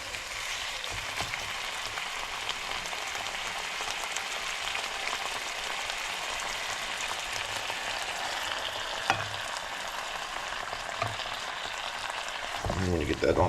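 Chicken and refried beans with cream of jalapeño soup stirred in a skillet, a steady close sizzle and scraping that runs throughout, with a brief clatter near the end.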